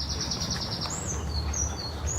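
Birds chirp and trill in short repeated phrases during a morning walk outdoors, clear and moderately near over a steady low rumble of background noise.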